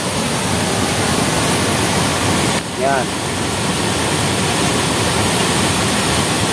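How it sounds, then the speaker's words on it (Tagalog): Strong rushing water pours down Maranum Falls in Natividad, Pangasinan, a loud, constant roar that fills the scene, with someone speaking briefly over it. "Malakas ang agos ng tubig."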